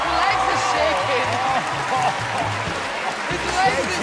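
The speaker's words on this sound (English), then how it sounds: "Give it up for Nick Cannon, everybody." An audience applauds on a televised talent show stage, a dense, steady wash of clapping and crowd noise that fills the whole moment, with a voice speaking over it.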